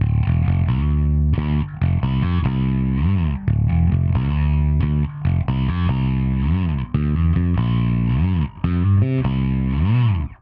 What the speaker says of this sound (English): With this effect, distortion is applied only to the high frequency sounds and not the sound in the low frequency.